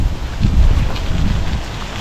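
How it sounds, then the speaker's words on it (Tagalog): Strong wind roars steadily outdoors in Finland, buffeting the microphone with loud, low rumbling gusts throughout and no voices. "Ang lakas ng hangin."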